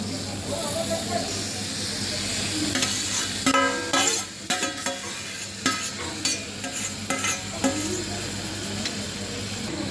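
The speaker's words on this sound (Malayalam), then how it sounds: "നമുക്കിനി എല്ലാം കൂടെ മിക്സ് ചെയ്യാം." Bilimbi (irumban puli) pickle is stirred and mixed in a pan, with a continuous hissing sizzle and a run of rhythmic stirring strokes in the middle, accompanied by brief vocal sounds.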